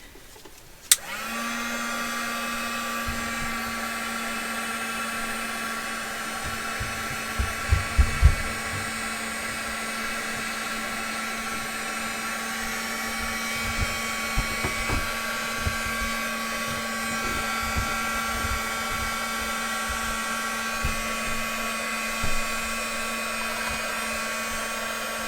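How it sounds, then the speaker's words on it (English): Heat gun switched on to dry paper ephemera, starting abruptly and then blowing in a steady, close, high-pitched whine and rush of air with occasional small knocks. "Maybe I'll just hit them with the heat gun now."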